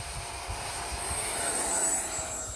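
An E-flite F-16 Falcon 80mm electric ducted-fan RC jet roars at full throttle, a steady, loud, high-pitched whine with an unbroken rushing hiss.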